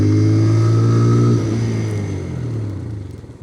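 A TVS Raider 125 or Bajaj Pulsar 125 motorcycle engine hums steadily and then winds down as the bike brakes and slows to a stop, the tone falling and fading near the end.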